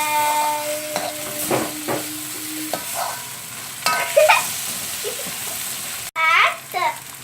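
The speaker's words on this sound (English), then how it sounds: "Chopped tomato. Mix it well." Chopped tomato being stirred in a frying pan, a spoon scraping and clinking against the pan over a low sizzle, uneven strokes with pauses, close up; a voice briefly babbles in the background.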